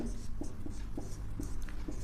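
Numbers being written on a board during a maths lesson, short regular scratchy strokes repeating several times, close and fairly quiet over a low background hum.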